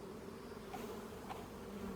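Honeybees hum steadily around an open hive and brood box during a hive restoration, a faint, continuous drone with no pauses.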